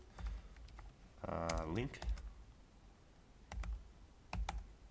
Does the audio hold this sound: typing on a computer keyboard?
yes